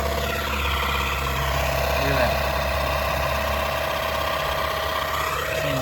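An Etenwolf Zephyr S5 runs steadily at idle throughout, a constant mid-pitched engine hum with vibration, while a person talks over it.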